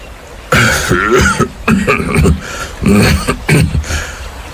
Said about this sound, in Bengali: বার কয়েক কেশে গলাটা সাফ করে নিয়ে ঠাকুরদা বলতে আরম্ভ করলেন